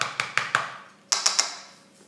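Boiled potatoes are mashed in the same pot they were cooked in, a few sharp metallic taps and knocks in two quick groups of three, close and clear with no talking.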